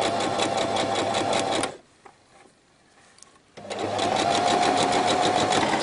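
A home sewing machine runs steadily along the curved lower hem of a girl's circular-cut skirt, loud and close with a fast even whir, pausing briefly in the middle before stitching resumes.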